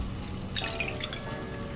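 Half a cup of water trickles and drips into a pan to start sugar syrup for a sweet-and-sour lemon pickle, a soft, close, steady pour with small splashy drips and no talk.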